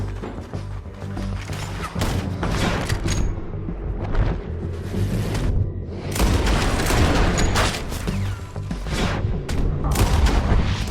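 Heavy gunfire in a Red Dead Redemption 2 shootout, loud overlapping shots and booming blasts in rapid bursts, with short lulls between volleys and crashes, continuing for the full stretch.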